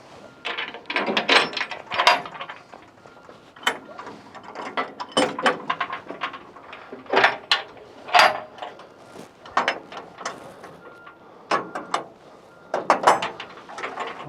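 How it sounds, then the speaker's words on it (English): Large side doors on a Tigercat 120 winch assist forestry machine being opened, giving a series of loud metallic clunks, latch clicks and ratcheting rattles in irregular bursts, close to the listener with no talking. "Along with the two top doors that very easily push open and latch into place."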